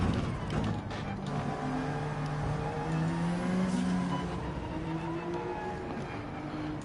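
A race car in Gran Turismo 7 pulling off toward the pits: a loud engine drones and shifts pitch as it slows, with faint tire noise and speech underneath.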